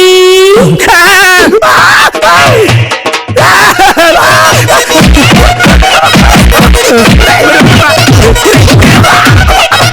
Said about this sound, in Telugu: వీడి ఆర్తనాదాలు వింటుంటే బాగా కుమ్మేస్తున్నట్టుంది